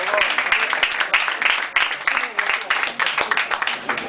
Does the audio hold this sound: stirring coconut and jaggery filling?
no